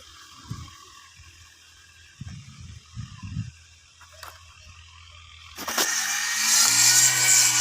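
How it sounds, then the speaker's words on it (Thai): A few dull knocks, then a brush cutter fitted with a seven-inch circular saw blade starts up and whines loudly and steadily at high speed, close by, cutting cassava stalks. "วิธีการตัดลำมันครับ ใส่เป็น เครื่องตัดหญ้าใส่ใบเลยวงเดือนครับ เจ็ดนิ้วครับ"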